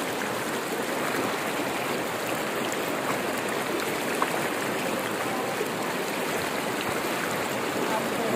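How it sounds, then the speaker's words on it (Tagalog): Strong river current rushing steadily near Tanay, Rizal, a dense, continuous broadband wash of flowing water that holds even throughout with no break. "Lakas ng agos din eh."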